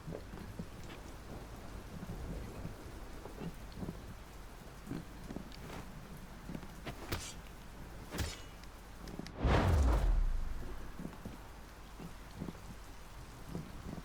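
A thunderstorm in the video game Sancticide's storm belt brings steady hissing rain, scattered drop impacts and one sharp, loud thunderclap partway through that rolls off into a fading rumble.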